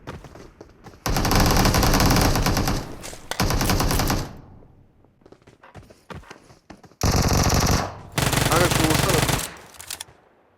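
Loud automatic gunfire in PUBG Mobile comes in two long sustained bursts, with quieter scattered shots and game noise between them and no talk over the firing.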